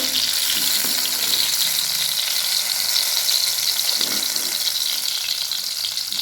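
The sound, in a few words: ridge gourd fritters (bhaji) deep frying on low flame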